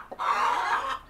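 A single drawn-out hen cluck or squawk, fairly close and moderately loud, lasting about a second.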